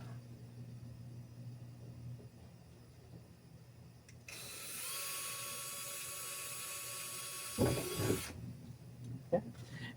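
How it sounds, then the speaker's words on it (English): A small drill bores a tiny hole through a panel of a resin 3D printer cabinet, a steady whirring for about four seconds, followed by a few light clunks as it stops. "So I'm going to drill through this real quick."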